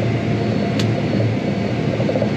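A tractor engine runs steadily at a loud, sustained drone after the throttle is pushed forward, a low rumbling hum filling the whole stretch with no clear rise or break.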